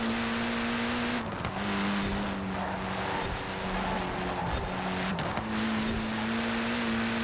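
A race car in Forza Horizon 4, tuned with a slidey setup, drones with a steady, sustained engine note, dipping briefly in pitch twice as if shifting gears, with no talk over it.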